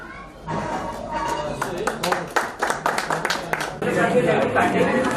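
An audience at a poetry gathering applauds to welcome the poet Sohail Iqbal with a burst of close, sharp, uneven claps that fades after a few seconds as a voice carries on.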